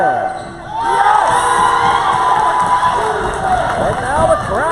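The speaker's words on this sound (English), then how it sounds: "the crowd is on fire as the Knights trail by 2" A crowd in a gym cheers at a college women's basketball game, with roaring and shouting that swells and holds loud throughout, mixed with the thud of a bouncing ball and a commentator's voice.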